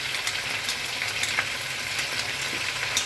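Garlic frying for chicken adobo in coconut milk, a dense loud sizzle with crackles and small stirring scrapes, steady throughout, no talking.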